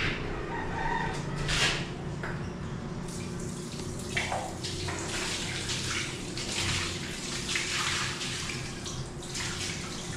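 Water runs and splashes steadily while a kitchen counter sink is filled for a leak test, with a rooster crowing faintly in the background.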